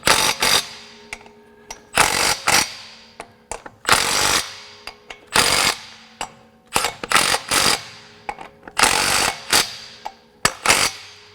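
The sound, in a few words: Milwaukee M12 Fuel stubby impact wrench running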